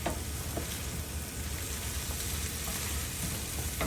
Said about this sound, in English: Still sizzling a little bit.